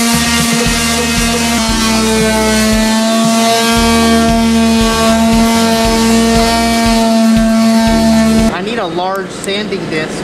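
A loud, steady high-pitched whine from a power sanding disc on a Mule's body runs for most of the stretch with grinding friction, then cuts off abruptly, leaving a winding-down tone.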